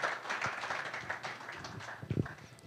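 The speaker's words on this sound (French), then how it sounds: "Sous vos applaudissements" A conference audience at a television channel's official launch applauds the director general, a soft, fairly distant patter of clapping that swells near the end.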